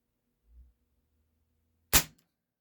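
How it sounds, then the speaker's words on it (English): An air rifle fires an H&N Baracuda Green pellet, a single sharp, loud crack standing alone after a brief soft thump of handling in an otherwise quiet room. "first shot with the H&N Baracuda Green"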